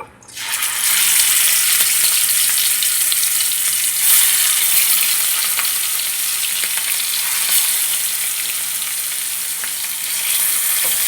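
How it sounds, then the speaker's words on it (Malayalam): Loud, continuous sizzling of fish roe frying in hot oil, close up and unbroken, with faint crackles and pops throughout. "മീൻ മുട്ട പൊരിക്കായിരുന്നു"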